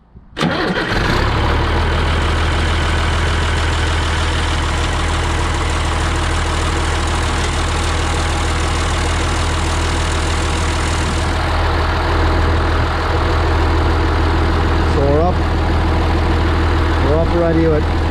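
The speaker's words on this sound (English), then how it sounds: "I'm going to run the tractor now" A John Deere 3140 tractor engine starts and settles into a loud, steady diesel run close by, with a constant low drone throughout; a voice is heard faintly over the engine.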